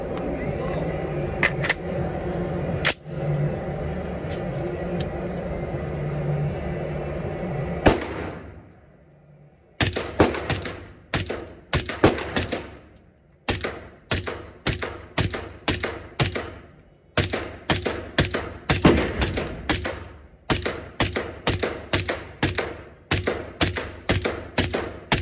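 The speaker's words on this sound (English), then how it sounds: "you'll hear it going bang, and that's the evidence that the gun actually shoots with this particular" A Q Shorty short-barreled rifle fires repeatedly outdoors, a long string of loud, sharp shots in quick succession with short pauses between bursts, after a stretch of steady background noise.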